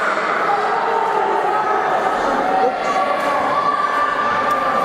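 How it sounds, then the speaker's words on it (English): Wrestling arena crowd at a live match, a loud continuous roar of shouting and jeering from a large audience, sustained and dense throughout with no clear breaks. "The crowd seem outraged."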